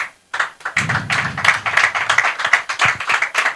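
Clapping from an audience at an institute event, many hands striking in dense overlapping bursts that carry on steadily and fairly close after a brief silent start.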